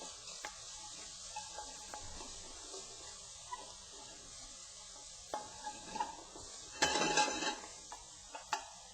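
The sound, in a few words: bacon frying crispy in a pan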